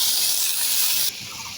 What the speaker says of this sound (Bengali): পেঁয়াজের মধ্যে একটু পানি দিয়ে দেব,